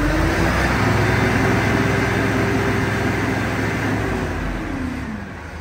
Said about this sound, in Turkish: Gaz veriyorum.